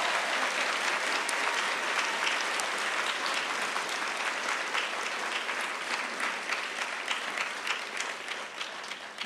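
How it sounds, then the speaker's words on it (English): A ceremony audience at a Class of 2022 baccalaureate claps in sustained, dense applause, loud and steady throughout before tapering slightly near the end, with no voices over it. "Round of applause."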